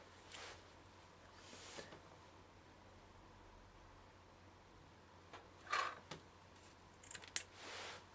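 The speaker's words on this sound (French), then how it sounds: "couper ma petite bandelette" Scissors cut a small strip in two during a miniature goblin craft build: a few soft cuts and rustles early, then sharper snips near the end, close against a quiet room hum.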